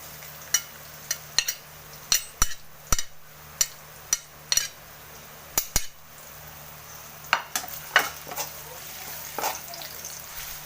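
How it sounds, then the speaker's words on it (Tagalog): Ginger being stir-fried in a pan: a series of sharp, fairly regular metal spatula taps and scrapes against the pan over a faint, low sizzle, closer clatter toward the end. "Haluin lang po natin, guys, hanggat mag golden brown po yung ating luya"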